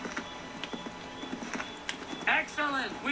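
Hooves of a galloping horse in the game Assassin's Creed 3 clip-clop in a quick rhythm, joined by a whinny near the end while someone talks over the gameplay.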